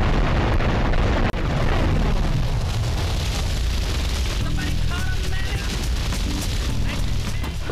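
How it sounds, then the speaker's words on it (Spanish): A bomb detonating in Grand Theft Auto 3 on PC, a loud deep boom with rumbling debris that fades slowly over several seconds, with a player talking faintly at the end. "Esa explosión no nos dañó para nada y estábamos al lado"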